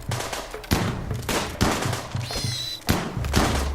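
Gunfire in the colony-building game Rimworld, a handful of sharp, loud shots and thuds spaced irregularly over a steady game soundscape, with a brief high whine in the middle.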